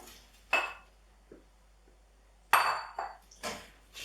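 Gnocchi tipped back into a pan with leeks and bacon gives a few sharp metallic clinks and clatters of pan and utensil, spaced out with quiet gaps between.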